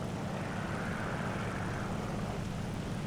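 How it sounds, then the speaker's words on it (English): A P-51 fighter plane taking off in a combat flight video game, its engine a steady, loud droning roar with a faint whine, continuous and close throughout. "P-51 gets off the runway"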